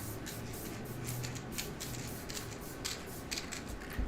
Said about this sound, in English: I'm going to spray just a little.